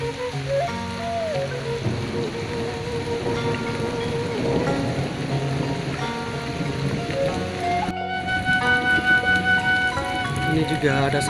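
Steady rain falls in a remote hillside village in Cioray, a dense hiss of drops continuing throughout under background music, with no talking.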